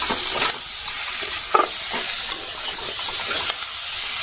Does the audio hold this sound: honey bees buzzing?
no